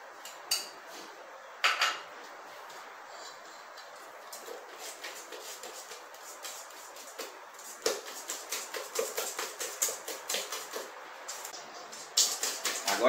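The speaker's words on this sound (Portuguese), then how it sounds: "E vou continuar batendo essa mistura." Chocolate cake batter of margarine, sugar and egg being beaten in a bowl, a steady series of light clinking, scraping taps from the utensil against the dish, picking up into quicker rhythmic strokes toward the end.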